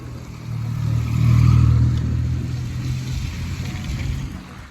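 Motorcycle engines droning steadily on a road, with a low hum that swells in the middle then settles into a continuous ride-along rumble, no talking.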